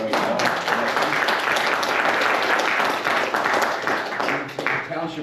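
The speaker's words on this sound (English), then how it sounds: "So if everyone could please give him a round of applause." Applause at a township committee meeting welcoming a new member, a short burst of many hands clapping together, moderately loud and steady with voices murmuring underneath as it tapers off.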